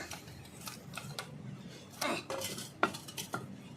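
Metal utensil clinks and scrapes as fish parcels wrapped in taro leaves are turned over in a pan, a handful of sharp irregular clacks and scuffs at close range against quiet kitchen background.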